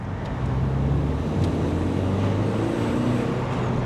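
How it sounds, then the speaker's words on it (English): A cheap used Saab 9-3 convertible's turbocharged engine drones loud and steady under acceleration, a low continuous hum with road noise and no talking. "Just trying to leave a bit of a gap here so I can sting it and see how this turbo kicks in."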